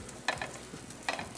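A paratha fries in a little light oil over high heat, giving a faint, soft sizzle broken by a couple of brief scraping stir sounds.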